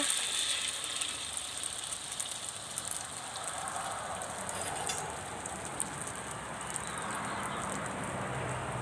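Hot oil crackles steadily in a pan while egg with fermented pork sausage fries, a dense, even sizzle with fine popping that stays at a constant level throughout, with no voices.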